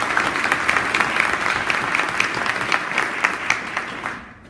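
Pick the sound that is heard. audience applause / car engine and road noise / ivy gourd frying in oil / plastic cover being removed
audience applause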